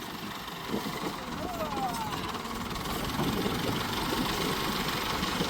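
A tractor engine runs steadily during the paddy season, a continuous low rumbling drone that is fairly close and grows slightly louder toward the end, with no one talking.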